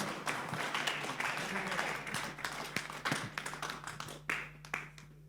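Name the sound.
audience applause for the fighters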